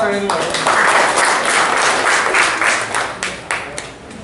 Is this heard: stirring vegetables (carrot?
no